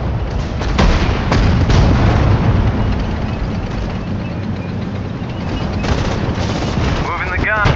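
Sustained gunfire and artillery from the Sudden Strike 4 strategy game during a Soviet campaign battle at Balaton: dense, continuous rattling machine-gun bursts and booms, loud and steady throughout, with a brief radio-style voice near the end.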